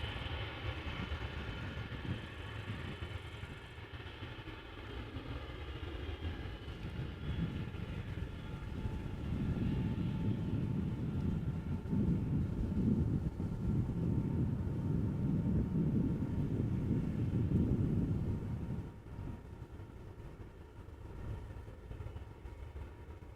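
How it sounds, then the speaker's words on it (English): A distant Emirates Boeing 777 takes off at Amsterdam Schiphol, a low, rumbling jet roar that builds through the middle and fades away, steady and far off. "Emirates triple in the distance, taking off."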